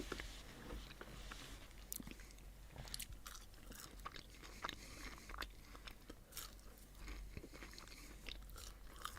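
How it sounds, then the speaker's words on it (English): Crunchy fries bitten and chewed close to the mic, repeated sharp crisp crunches in an irregular rhythm over quiet background, no talking. "This is how fries are supposed to be."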